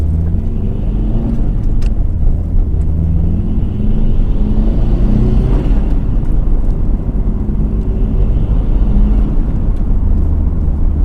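A 2002 Subaru WRX STi Prodrive Edition driving slowly, a steady low engine and road rumble heard from inside the car, continuous and fairly loud with no talk.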